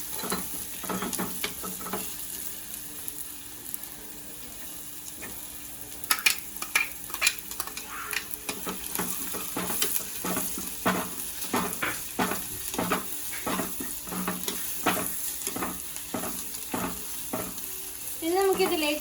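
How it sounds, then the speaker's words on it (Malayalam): Ginger and garlic sizzling in oil in a clay pot for a prawn roast, a continuous fry hiss broken by repeated scraping stirs of a spoon against the pot. "ഇനി ഇഞ്ചി വെളുത്തുള്ളിയും ചേർത്ത് കൊടുക്കാം."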